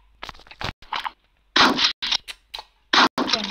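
Loud video game gunshots crack in short bursts, several sharp blasts separated by brief pauses, close and punchy with no talking.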